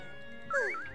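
A cartoonish cat meow in the Haunt the House video game, a single rising and falling tonal cry lasting about half a second, fairly clear over a quiet background.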